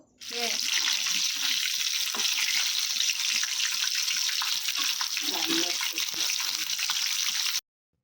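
KFC-style chicken frying in hot oil gives a steady, loud, close hiss of bubbling oil with scattered crackles from start to finish before it stops abruptly.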